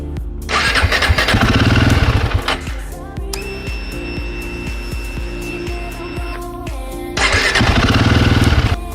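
A Royal Enfield Himalayan 450 motorcycle engine revs hard, settles into a steady idle with a high whine, then revs loudly again, close by.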